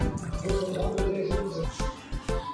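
Water pours steadily into a pot for plain chicken soup, a continuous close splashing and gurgling with a few brief breaks, heard alone without talk.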